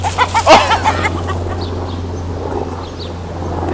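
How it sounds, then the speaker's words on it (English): Roosters scuffle and cluck loudly in a farmyard, with a burst of sharp calls up front that settles into scattered clucking over a steady low hum. "where was I before I was interrupted by roosters fighting?"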